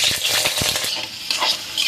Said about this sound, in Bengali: কিউব করে আলুগুলো কেটে আমি ভালোভাবে এটা মিডিয়াম আঁচে ভেজে নিব।